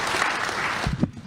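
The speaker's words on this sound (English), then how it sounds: "Give her a hand, guys." A short burst of audience applause for a speaker being welcomed at a school rankings event, dense clapping that swells briefly and then cuts off into quiet.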